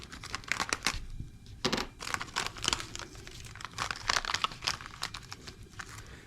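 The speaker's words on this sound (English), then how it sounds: "We'll cut this new bearing package open." A new bearing package is cut open: close, faint crinkling and tearing of plastic wrapping in short irregular bursts.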